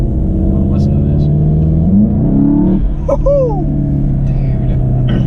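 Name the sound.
Cobb tuned 2015 Volkswagen Golf GTI accelerating, turbo winding up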